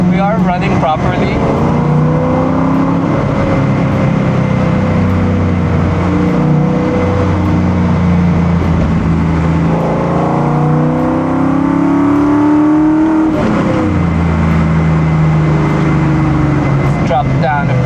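A Ford Mustang Mach 1 with a Coyote V8 revs on a dyno, rising and falling engine tones sweeping up through loud sustained pulls, very close, while a voice talks over it.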